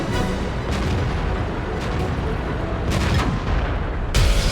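Tank cannon shots boom in World of Tanks, several heavy blasts over a rumbling battle din, with a loud shot near the end, while a voice talks over them.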